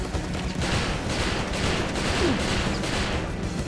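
Sustained gunfire in the shooter game XIII, a dense continuous rattle of shots with faint rhythmic pulses, steady and moderately distant with no talking.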